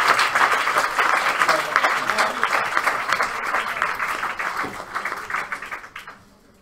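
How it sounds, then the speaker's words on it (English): A lecture audience gives a warm round of applause at the close of a history talk on the Norman conquest, steady crowd clapping that holds for several seconds and then fades out. "a big round of applause"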